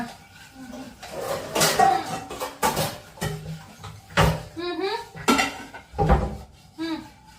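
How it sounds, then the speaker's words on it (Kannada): A spoon mixes chilli powder in a pan during a blindfold cooking challenge, with close metallic clinks and scrapes against the cookware coming in uneven bursts while people talk over it. "ಸ್ಪೂನ್ ಕೊಡು ಮಿಕ್ಸ್ ಮಾಡ್ತೀನಿ"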